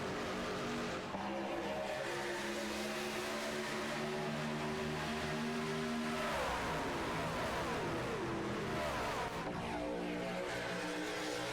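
Race trucks accelerate at the green flag in the Hammer Down 200 at Daytona, a loud, layered roar of engines revving upward together, with rising pitch sweeps as trucks pass and pull away.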